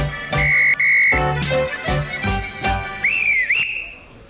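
A whistle blown loudly in a studio, several sharp shrill blasts of varying length, the last one warbling up and down, close and prominent with no talking.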